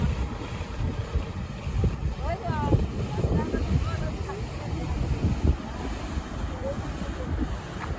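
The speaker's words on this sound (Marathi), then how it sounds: "हा बघा बीच आणि कशा लाटा येतात त्या बघा तुम्ही" Ocean waves rolling in on Shiroda beach in Konkan, a constant broad wash of surf mixed with wind buffeting the microphone, with voices faintly present.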